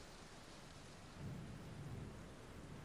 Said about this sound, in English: Rain poured in sheets